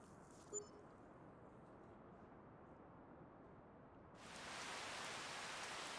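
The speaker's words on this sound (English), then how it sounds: "Oh no, it's raining." Rain in Farming Simulator 25 starts suddenly after a quiet stretch, becoming a steady, dense hiss of falling rain that continues to the end.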